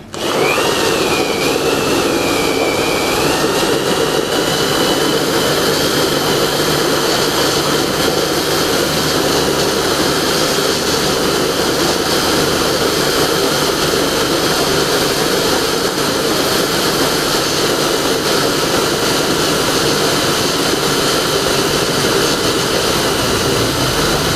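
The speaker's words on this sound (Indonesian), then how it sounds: "Kita menggunakan mesin pengupas bawang ini 5 kilo" An electric onion peeling machine loaded with about five kilos of onions and water runs continuously, a loud, steady whirring motor drone with a rough, churning rattle, starting abruptly and holding constant throughout with no talking.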